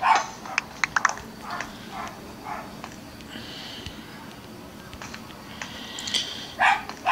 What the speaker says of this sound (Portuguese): porra desses cachorros ficam latindo.